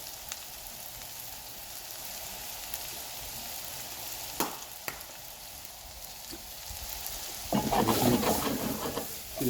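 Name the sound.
vegetables and ham sizzling while sweating in a pan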